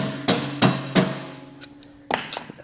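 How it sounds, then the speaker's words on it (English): A rubber mallet tapping a bucket pin out on a Kubota BX tractor loader: three evenly spaced, loud ringing metallic knocks, then lighter taps and a clank as the pin comes free. "just a little tap with the rubber mallet, and out comes the pin"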